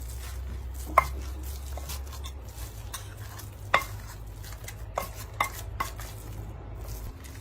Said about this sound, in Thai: ขาเขาก็หั่นฝอยแล้วก็เอามาตำแล้วกันเนาะ